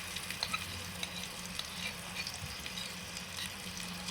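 Onion paste, ginger, garlic and green chili paste fry in the oil left from frying fish, with cardamom and cinnamon already in the pan. A steady, dense sizzle hisses throughout with no talking.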